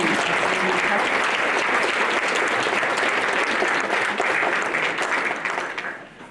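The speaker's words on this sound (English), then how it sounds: "let's give Katie a big round of applause." Audience applause closing a talk on Deadwood archaeology, a dense steady wash of many hands clapping from start to finish, fading slightly at the very end.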